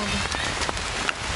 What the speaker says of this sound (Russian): Попали под дождь, стоим под укрытием.